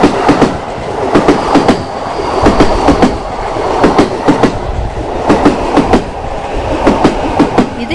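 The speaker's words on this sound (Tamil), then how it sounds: "நம்ம டேபிளுக்கே ஒரு டாய் ட்ரெயின் வச்சு ஃபுட் சப்ளை பண்ணுறது ரொம்பவே ஆச்சரியமாக இருந்துச்சு" A toy train runs along its track in a train-themed restaurant in Bangalore, giving a steady rolling rumble with regular clickety-clack beats, loud and close, alone without talk.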